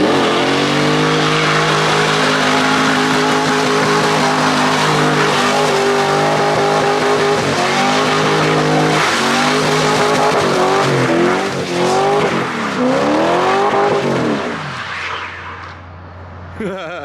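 A Holden VY SS Ute skids in second gear, engine roaring loud and close while the tyres squeal in long wavering pitches over about fifteen seconds before the noise fades out.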